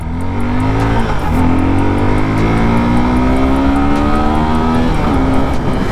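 A 2021 Suzuki Gixxer SF 250 BS6 motorcycle engine revs hard toward 8000-9000 RPM, its loud, steady whine climbing in pitch, dipping briefly at a shift, then climbing again with no talk over it.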